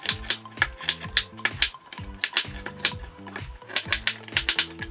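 A block of clear ice is cut and chipped down at close range, giving rapid bursts of sharp clicks and cracks in a rough, repeating rhythm with short pauses between bursts.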